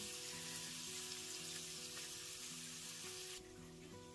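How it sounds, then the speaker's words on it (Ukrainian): Steady, faint sizzling of chopped carrots and onions frying in a pan over medium heat, with a soft crackling hiss throughout and a faint tonal hum beneath. "Дрібно подрібнили морку цибульку і все підсмажуємо на середньому вогні хвилин 2-3."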